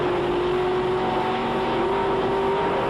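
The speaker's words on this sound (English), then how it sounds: "Engine revs build." A drag racing car at the 1993 Winternationals at Willowbank Raceway, Australia, revs its engine at staging, a loud, steady, droning roar that holds close and unbroken throughout.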